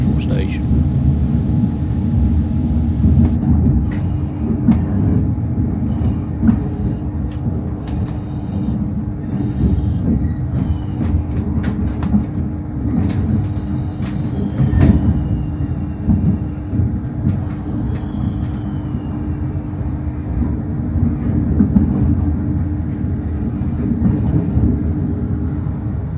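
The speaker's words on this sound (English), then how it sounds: "Just dropping in on our 10-car Azuma" A 10-car Azuma train pulls around a curve into Newcastle Central Station, with a steady low rumble of wheels and carriages and scattered sharp rail clicks and squeals that continue throughout.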